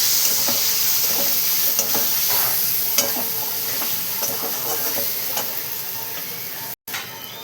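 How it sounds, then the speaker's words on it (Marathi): Mushrooms and spices are sautéed in a pan, a close, steady sizzle with irregular stirring taps and scrapes. The sound briefly cuts out near the end, and there is no talking. "मी असे सगळे मसाले याच्यामध्ये टाकून घेतलेले बघा आणि छान असं परतून घेणार आपण"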